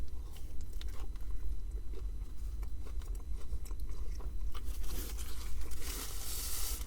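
Someone bites into a hot McDonald's 280 burger with shallots and chews close to the microphone, soft crunching and wet chewing noises going on steadily for several seconds.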